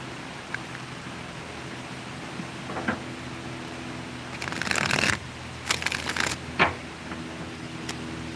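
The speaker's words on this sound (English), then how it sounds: "One more shuffle, 3 flip throughs" Tarot cards being shuffled by hand, close up, with a few brief riffling bursts and soft flicks over a steady hiss, no talking.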